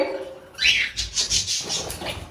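Lovebirds and cockatiels in an aviary let out a few bright, close chirps and short calls in quick succession, some sharp and squeaky.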